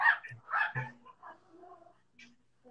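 Dogs at home give several short, sharp barks and yips near the microphone, then softer whimpering sounds, with a voice faintly mixed in.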